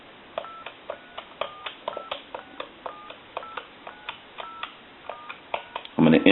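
A series of short touch-tone keypad beeps from a French-style desk telephone, one after another at an even pace, about a dozen presses, ending in a brief burst of noise.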